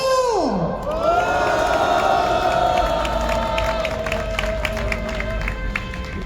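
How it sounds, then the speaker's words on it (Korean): Large outdoor rally crowd of construction union workers at Gwanghwamun in Seoul cheering and applauding loudly, with whoops and shouts over dense clapping, and a descending whistle-like tone at the start. "2024년 건설산업혁명 결의대회를 동지들의 힘찬 박수와 함성으로 시작합니다."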